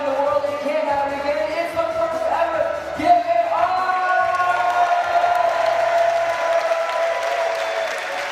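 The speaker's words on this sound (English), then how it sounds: "Absolutely revving this crowd up." A crowd at a freestyle trampoline world championship applauds and cheers continuously, a loud sustained roar of clapping and whoops with a few shouts rising above it.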